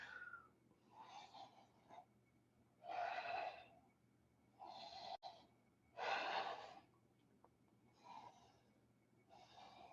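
Breathing during a yoga class, a series of slow, quiet breaths in and out at a steady pace, close and soft with faint background hum.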